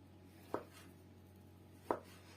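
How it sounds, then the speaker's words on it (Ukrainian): Two distinct knife chops through sausage on a cutting board, cutting it into cubes, spaced about a second and a half apart, over a low steady hum. "Нарізаю колбасу кубиками."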